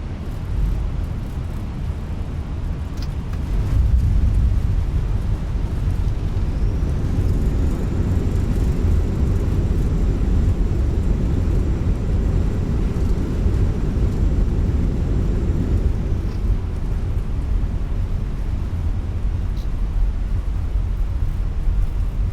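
Ryanair airliner rolling out on the runway after landing, a steady loud broadband roar of engines and wheels with a faint high whine, continuous for about twenty seconds with no talk.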